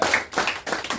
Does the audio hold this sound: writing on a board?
no